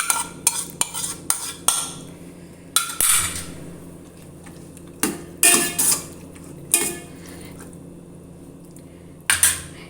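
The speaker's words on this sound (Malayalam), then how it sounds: "അരി ഇട്ട് കൊടുക്കാം അതുപോലെ പയറും ഇട്ട് കൊടുക്കാം" Cooked rice and lentils tipped into a pot for Vishu kanji porridge, a series of sharp metallic clanks and scrapes from a spoon against the vessel, spaced irregularly with quiet gaps, no talk.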